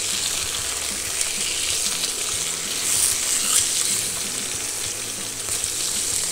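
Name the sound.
salmon fillets searing in a frying pan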